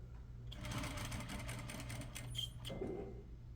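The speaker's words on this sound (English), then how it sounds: "you are stitching right next to it at 1/2 inch, so that all the gathering stitch is within the seam" A sewing machine stitches a set-in sleeve seam with a steady, fast mechanical whir that runs close and continuous for a few seconds before briefly changing pitch near the end.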